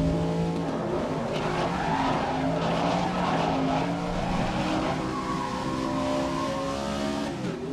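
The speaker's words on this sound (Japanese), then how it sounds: "タイヤが鳴きながらでもギリギリステアリングを我慢して今のコーナーはうまく曲がれた" Car tyres squealing through a corner in the racing video game GRID 2019, over a loud, steady engine drone that runs throughout, with no talking.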